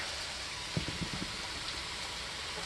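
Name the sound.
rain falling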